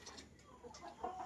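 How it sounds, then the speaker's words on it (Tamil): Chickens kept at a house cluck softly, a few short, faint calls overlapping over about a second. "இப்போ நம்ம வீட்டில் நிறைய கோழி நிற்கிது."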